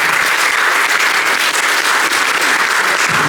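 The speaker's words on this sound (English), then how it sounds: "Big round of applause for Haroon." A big round of applause for a business speaker at a networking event: dense, loud crowd clapping that holds steady the whole time and thins slightly at the very end.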